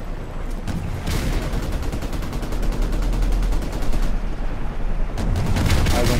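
Rapid gunfire in Call of Duty Modern Warfare, with dense automatic bursts and booming shots, loud and nearly continuous throughout.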